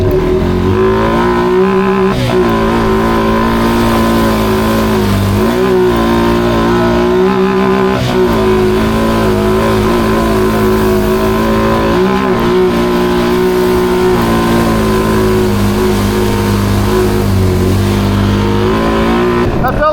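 Racing truck engine in a video game accelerating hard from a second-gear start with nitrous, a loud continuous roar that rises and falls through gear changes and fills the whole clip, with no talking.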